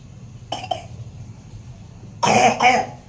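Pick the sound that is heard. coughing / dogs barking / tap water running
coughing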